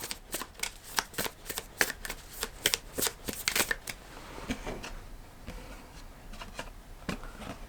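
Tarot cards are shuffled in a quick run of crisp riffling snaps, close and clear, then give way to softer sliding and tapping.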